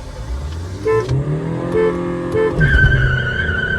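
At the start of a drag race between a Brezza diesel manual and an Alcazar diesel automatic, three short horn beeps sound before a long horn tone, with diesel engines idling and rising underneath.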